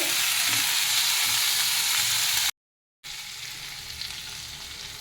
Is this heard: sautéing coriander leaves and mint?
yes